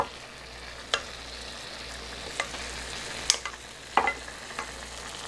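Kabocha squash simmering and reducing in its cooking liquid, a soft steady bubbling sizzle with a few sharp clinks and taps of a spoon as the liquid is ladled over.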